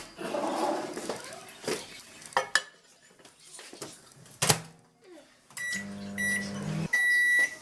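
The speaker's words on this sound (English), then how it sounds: "now I'm going to put it in the microwave for 2 minutes" A microwave oven cooks a pineapple upside-down cup cake; dish and cutlery clatter comes first, then a steady close electric hum marked by a few high electronic beeps.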